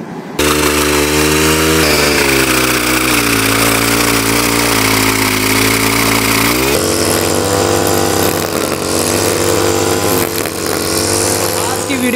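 A vehicle engine runs loudly and close while moving, a droning mid-pitched whine that rises slightly in pitch and then shifts gear, continuing steadily with a voice speaking over it.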